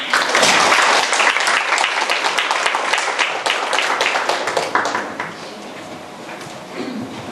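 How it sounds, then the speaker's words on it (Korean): An audience at a freedom of expression festival opening gives warm applause to welcome a speaker: dense, loud clapping from many hands that holds steady, then thins and fades toward the end. "여러분 힘찬 박수로 모시겠습니다"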